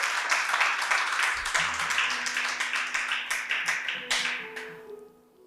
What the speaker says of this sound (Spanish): si van a aplaudir, aplaudan fuerte porque es para el Señor